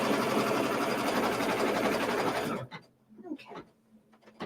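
A sewing machine stitches a quilt block held in an embroidery hoop, a loud, steady whirring run for about two and a half seconds that then stops, leaving quiet handling noises and faint room sounds.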